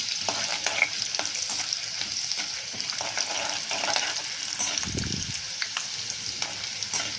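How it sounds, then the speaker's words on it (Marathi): Peanuts with chillies stir-fry in a pan for a dry chickpea vegetable dish, a continuous close sizzle and crackle broken by repeated scraping stirs and a low knock near the end. "शेंगदाणे छान फट परतून घ्यायचं आहे"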